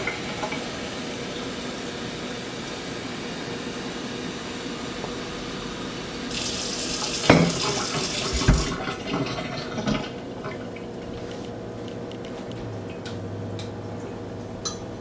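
Tap water runs into a pot in a home kitchen while an Italian soup is being made. A steady hiss swells into a brighter, louder rush for a couple of seconds, then settles back to a quieter flow with small clinks.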